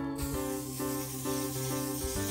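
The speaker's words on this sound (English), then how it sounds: "let's spray our pan." A steady hiss of aerosol cooking spray onto a pan, close and continuous, over a faint musical background.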